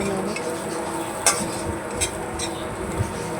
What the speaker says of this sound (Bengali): তো দিয়ে এবার খুব ভালো করে নেড়ে চেড়ে নেব